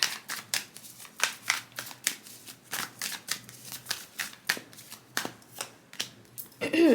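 Tarot cards are shuffled by hand in a quick, regular riffle of crisp flicks and slaps lasting several seconds, close and clear, with no talking.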